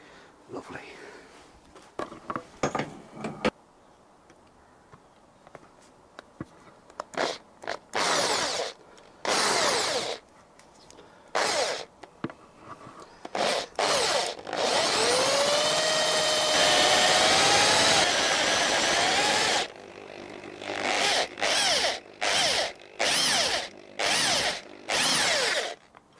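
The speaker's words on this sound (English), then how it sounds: "So I've even got to drill the screw out of the choke cable." A power drill bores out a stuck screw from the choke cable while the carburettors come off an XJ900S motorcycle, running in repeated loud bursts with short pauses between them and rising to one long sustained whine in the middle.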